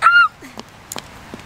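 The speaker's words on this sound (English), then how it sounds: "we're gonna feed the ducks." Ducks being fed call out with a loud nasal honk at the start, followed by a few shorter, fainter quacks and squawks spaced over a second and a half, with no talking.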